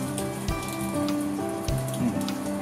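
Lidded pan of edamame tsukune simmering over medium-low heat, a soft continuous bubbling patter under steady background music, with no speech.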